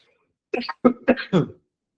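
A short run of four quick coughs, close and fairly loud, each burst sharp and separated by brief pauses.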